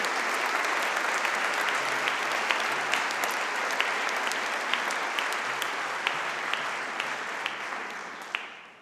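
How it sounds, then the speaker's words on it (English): A concert audience applauds the orchestra and choir's music teachers with a dense, steady wash of clapping that holds strong throughout and eases off slightly at the end. "can you give them a huge round of applause?"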